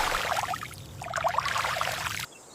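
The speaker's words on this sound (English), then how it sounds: "Fresh water gradually removes the mud accumulated during months beneath the pond." Fresh water pours and splashes steadily over harvested lotus roots, rinsing away pond mud, a close, continuous rushing trickle that stops abruptly near the end.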